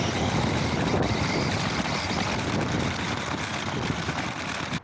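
Mario Kart RC car with an upgraded motor run at full throttle, a loud continuous whining motor and rushing noise that holds steady for several seconds before cutting off abruptly at the end.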